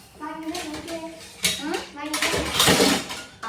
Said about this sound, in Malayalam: സ്ക്രബ്ബർ എന്റെ കയ്യില് ഈ സാധനം വെച്ചിട്ട് നമുക്ക് പാത്രം കഴുകാം